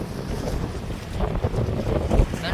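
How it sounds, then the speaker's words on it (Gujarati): Strong wind roars and buffets the microphone in uneven gusts beside a full dam reservoir in rainy weather, with a faint wash of water underneath. "હા એ બરાબર પવન છે હા પવન બહુ છે"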